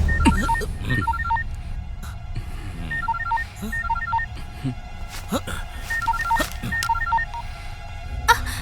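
Telephone keypad dialing tones beep in several quick sequences of short, bright tones, heard over a murmur of voices and background noise in a tense dramatic scene.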